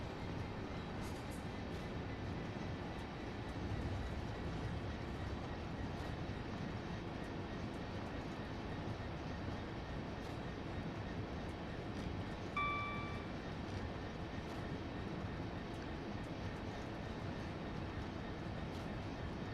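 A Class 66 diesel locomotive from Train Sim World 2 runs on the Brighton Main Line, giving a continuous heavy engine drone and rail rumble. It stays steady and fairly loud throughout, with a brief faint tonal squeal partway.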